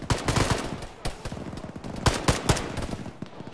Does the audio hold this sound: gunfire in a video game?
yes